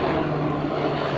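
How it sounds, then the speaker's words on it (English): Aircraft passing overhead in a helicopter chase, a steady loud broadband engine and rotor roar that holds level for the whole stretch, with a low droning hum underneath and no talk. "helicopter chase going over just right above me"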